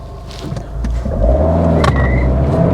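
An Abarth F595C accelerates hard with a bit of wheel spin, its small engine building from a low rumble to a loud, sustained growl up close.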